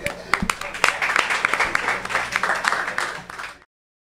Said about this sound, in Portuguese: Uma salva de palmas pra isso.